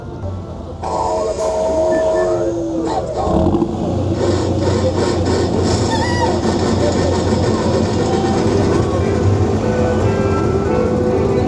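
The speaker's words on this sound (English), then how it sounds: "But we made it into the train." A loud, continuous rumble of the Casey Jr. Circus Train ride at Disneyland with rattling and squealing wheels, heard from on board, steady throughout.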